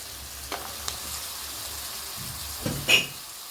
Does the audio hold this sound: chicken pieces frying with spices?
yes